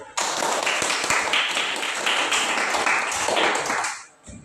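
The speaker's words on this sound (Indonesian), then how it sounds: "Tepuk tangan dulu." A classroom group bursts into steady, dense hand clapping for a student called forward, the rapid claps sustained close and loud for about four seconds before dying away.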